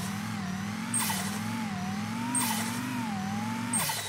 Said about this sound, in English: let's test it. Let's rev it up.